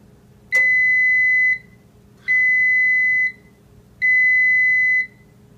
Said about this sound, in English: 3 medium beeps. That's the sound that you hear when the cook cycle is finished